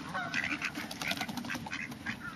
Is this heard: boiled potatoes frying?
no